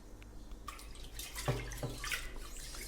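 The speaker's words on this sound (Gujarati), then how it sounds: "જો પહેલાં દાળને ધોઈ લેવાની બાફતા પહેલાં" Water runs and splashes over lentils (dal) being washed in a kitchen before boiling, with close, uneven trickling and small drips that swell in the middle.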